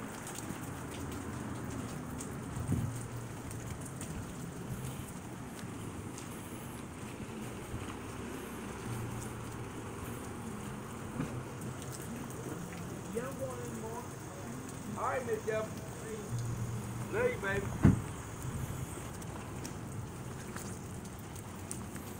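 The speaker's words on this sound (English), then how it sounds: "It's raining out here, it's nasty down here." Rain falls outdoors in a steady, even hiss lasting throughout, with faint scattered tones and a brief low knock near the end.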